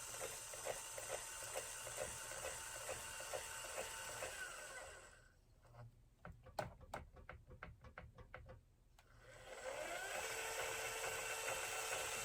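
Adjustment bolts on a Celestron CGEM II telescope mount being tightened with a hand tool, giving a quick run of a dozen or so sharp ratcheting clicks over a few seconds, close and moderately loud, between stretches of steady background noise.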